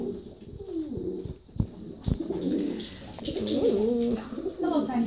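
Pigeon or dove cooing indoors among other birds, a series of soft, close, rolling low coos mixed with the occasional scuffle and a person talking.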